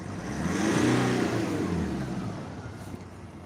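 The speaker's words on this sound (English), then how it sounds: "Give it a little rev." A car engine revs up, swelling to a peak and then easing off into a steady hum, close and fairly loud with no talk over it.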